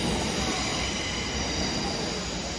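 At Bournemouth, a South Western Railway class 444 electric unit produces steady rail noise, a continuous rolling rumble with a faint high wheel hiss, heard close and even throughout with no speech.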